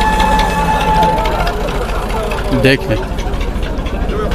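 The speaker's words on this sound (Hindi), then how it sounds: "ये गोबर से भरा ट्रैक्टर" Tractor loaded with cow dung at a livestock market in Peshawar, its diesel engine idling with a steady low rumble close by while someone talks over it and a brief clatter cuts in.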